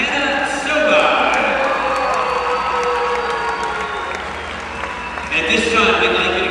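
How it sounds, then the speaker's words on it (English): At a college gymnastics meet, a crowd applauds and cheers a senior gymnast, a broad roar of clapping and voices with shouts and whistles rising over it, loud and sustained throughout. "give a big round of applause for senior Hannah Soban"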